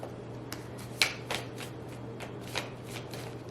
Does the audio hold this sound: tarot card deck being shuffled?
yes